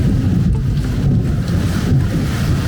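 Heavy, continuous thunder rumbling with a steady wash of heavy rain and wind noise at a resort in Zakarpattia, Ukraine, loud and close throughout with no break.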